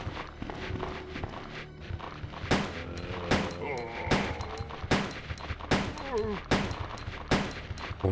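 Handgun fire in Resident Evil 2 (1998), several sharp single shots spaced about a second apart, loud and close, over a low game ambience.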